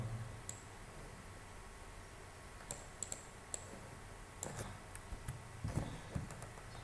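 Code being typed on a computer keyboard: sparse, light clicks come one at a time and in small clusters over a faint, steady background hiss, with no talking.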